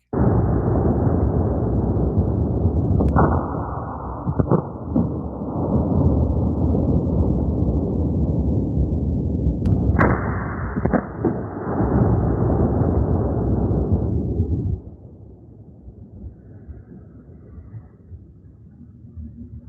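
A seven-barrel Kraken Nock volley gun fires outdoors with a huge, booming roar that rolls on like thunder, sharp cracks breaking through it, before dropping to a lower rumbling tail.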